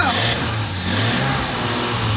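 A Series 1 Jaguar E-Type engine, hot-wired and starting for the first time in 30 years, runs rough with uneven revving pulses and a loud, rumbling exhaust.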